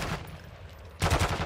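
A single shot fired in the video game Call of Duty: Modern Warfare II rings out after a second of quiet, then a loud burst of gunfire.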